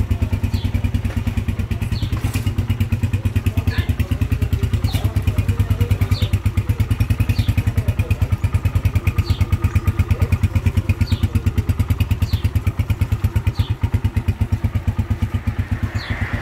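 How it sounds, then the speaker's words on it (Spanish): A 2020 CG X1000 200cc six-speed racing motorcycle engine runs close and loud at a steady idle, with a fast even chugging pulse and light mechanical clatter throughout, and no talking. "Vinimos a comprar la moto de un seguidor, un CGX1200 del último modelo"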